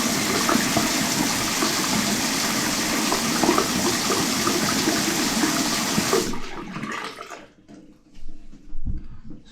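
Water drains through a bathroom sink basin that had been plugged for a while, with a steady, close rushing gush for about six seconds that cuts off into a few faint gurgles and drips.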